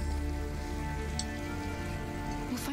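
Rain falling in a night street scene of the video game Detroit: Become Human, a soft, steady patter under a low droning game score, faint and continuous with a couple of brief light clicks.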